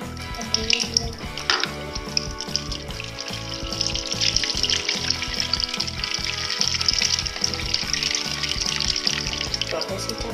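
Water runs from a tap to fill a bath, a steady splashing, sizzling gush with a low rhythmic thumping underneath.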